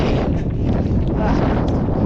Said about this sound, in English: It's windy, yeah. Very windy.